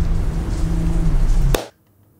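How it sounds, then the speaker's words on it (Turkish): Foley rain and thunder built from shower water dripping onto an empty plastic container, with plates being moved, giving a loud, dense patter with low rumbling that cuts off abruptly near the end, leaving near silence. "Aslında duyduğunuz o tıkırtılar boş bir plastik kabının üzerine duştan dökülen su damlalarının sesiydi."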